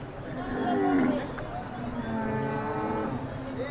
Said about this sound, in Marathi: पहिल्या वेताची गाय.